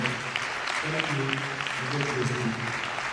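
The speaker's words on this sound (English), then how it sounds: "Please give her another round of applause." An audience at a university inaugural lecture applauds, a dense sustained patter of many hands clapping together, with a voice speaking over the applause.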